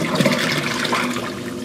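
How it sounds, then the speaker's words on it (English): New saltwater pours into a 400-gallon aquarium during a water change, a steady rushing, gurgling splash that stays constant and close for the whole stretch. "I need to finish adding back 40 gallons of new saltwater"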